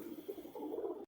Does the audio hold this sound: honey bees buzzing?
no